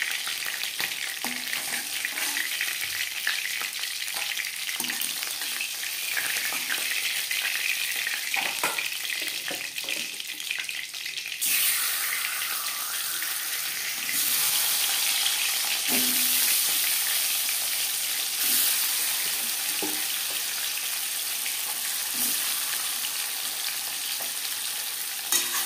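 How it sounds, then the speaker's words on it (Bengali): Five-spice seeds (panch phoron) tempering in oil left over from frying fish give a steady, close, crackling sizzle for the whole stretch. It turns brighter and louder about halfway through, with no talking. "মাছ ভেজে নেওয়া তেলে ফোড়নে দিয়ে দিলাম"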